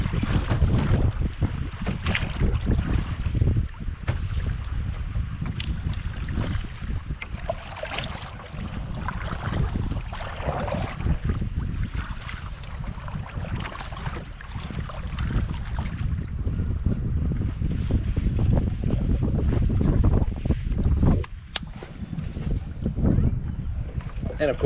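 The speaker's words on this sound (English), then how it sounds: "So the waves are a little rough." Rough waves slap against an Aruba 12 SS kayak on Old Hickory Lake while strong wind buffets the microphone in a constant, loud roar of rushing air and splashing water.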